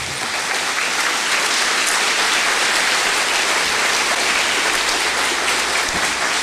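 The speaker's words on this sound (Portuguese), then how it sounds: "Aplauda Jesus, igreja." A church congregation claps together in loud, sustained applause, a dense, even wash of hands that holds steady for several seconds with no talking over it.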